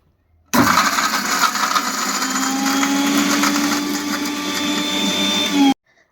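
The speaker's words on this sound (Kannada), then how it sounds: "ಬೆಳ್ಳುಳ್ಳಿ, ಬೆಲ್ಲ ಮತ್ತು ಹುಣಸೆಹಣ್ಣು ಹಾಗೆ ಗೋಡಂಬಿನ ಹಾಕಿ ಚೆನ್ನಾಗಿ ಗ್ರೈಂಡ್ ಮಾಡ್ಕೊತಿದ್ದೀನಿ" A kitchen blender grinds garlic, jaggery, tamarind and cashews into a masala for prawn ghee roast, a loud, steady whirring roar that runs about five seconds before cutting off abruptly.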